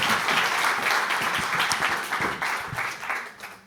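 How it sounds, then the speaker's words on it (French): Conference audience applause at a communications directors' summit, a steady round of clapping from a seated crowd that fades gradually toward the end. "On vous applaudit."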